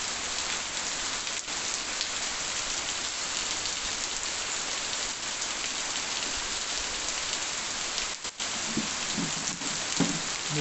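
Steady, dense rain falls during an evening shower in Cariri in Brazil's northeast. The patter and hiss are close and continuous, with a brief dip near the end and faint low thuds toward the finish.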